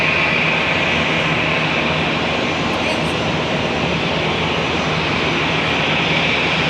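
An Etihad airliner departing Charlotte Douglas airport roars with a loud, steady jet engine rumble that holds throughout at close range.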